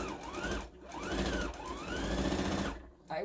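Sewing machine stitching Santa-themed placemats, a steady close mechanical whir with the motor speed swelling and easing in smooth waves across a few seconds, with brief pauses between runs.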